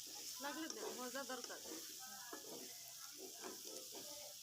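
Tomato sauce and food frying in a pan, a steady broadband sizzle with some stirring, heard under continuous speech throughout.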